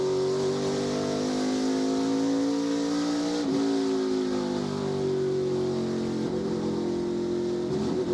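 An ARCA Menards Series race car at Berlin Raceway in 2023 powers off turn 4 at part throttle, its engine a loud, steady drone with slight pitch shifts, close and continuous without voices.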